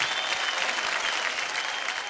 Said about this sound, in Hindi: एक बार जोरदार ताली एवरीबॉडी